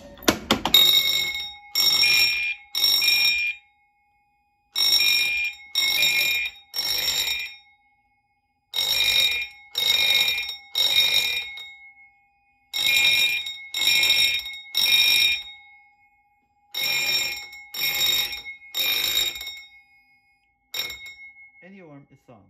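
Fire alarm system set off from an FCI pull station during a test, sounding in repeated groups of three loud tonal pulses separated by short pauses, continuing steadily until it cuts off near the end.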